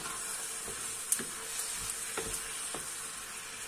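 Sofrito sizzles quietly in a frying pan for a Andalusian pintarroja stew, a steady soft hiss with a few sharp crackles and pops scattered through it, heard alone without any voices.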